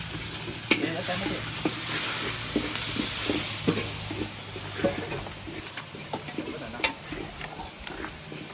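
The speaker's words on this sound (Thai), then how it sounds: "ผัดกันสดๆเลยครับ" Sizzling food is stirred and tossed in a large pot cooked outdoors for war evacuees, with a spatula clattering and scraping in irregular taps over a steady hiss.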